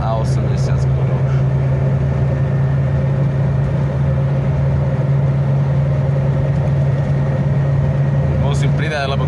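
Lada Niva car engine driving at speed in fifth gear at nearly 80 km/h, a steady loud low drone with a strong hum throughout and brief higher noises near the start and end.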